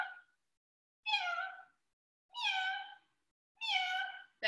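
Three or four separate meows from children imitating a cat, each about a second long with clear pauses between them, close and moderately loud.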